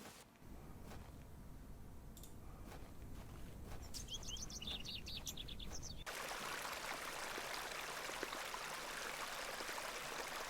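A flowing creek in the video game The Excavation of Hob's Barrow hisses as a steady wash. Soft bird chirps sit over it at first, then the water swells louder and fuller about halfway through, continuous and near.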